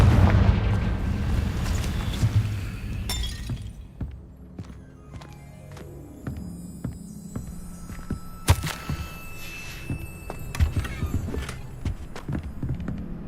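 A Confringo fire spell in the Hogwarts Legacy video game explodes with a booming burst at the start. Sharp impact hits follow, and a louder crack comes near the middle, among game ambience.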